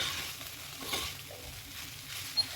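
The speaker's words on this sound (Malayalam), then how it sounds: "സോ നമുക്ക് നന്നായിട്ട് ഒന്ന് മിക്സ് ചെയ്ത് കൊടുക്കാം." Flat instant noodles, Top Ramen, being stirred with masala in a pan, a soft steady scraping and light sizzle with a couple of brief clinks, faint and close, with no talking.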